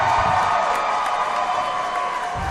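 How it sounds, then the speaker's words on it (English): Wrestling event crowd at an RWA Aggression show applauding and cheering together, a steady, loud roar of voices and clapping that holds for the whole stretch with no clear single voices standing out. "everyone here, you owe him a round of applause"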